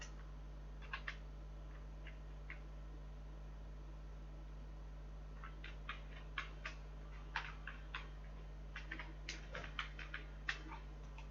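Keys on a computer keyboard are pressed during Hindi typing practice, making faint, irregular clicks in short bursts over a steady low electrical hum, with no voices.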